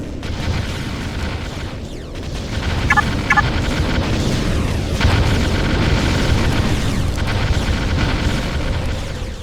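Explosion from a destroyed enemy structure in the Ground Control strategy game: a broad, rumbling blast sustained under continuous battle din, with a couple of brief pops early on and no speech.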